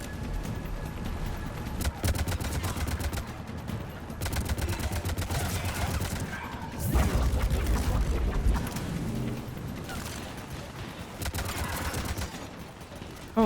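Sustained gunfire from a firefight in the sci-fi shooter Mass Effect 3: rapid, dense bursts of automatic shots rattle almost continuously, with a heavier, louder stretch partway through and brief lulls, over low rumbling game ambience.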